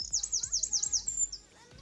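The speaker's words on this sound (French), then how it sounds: "Vous entendez les bruits des oiseaux?" Birds chirp and tweet in a garden, a rapid run of bright, close warbling notes for about a second before trailing off into quiet.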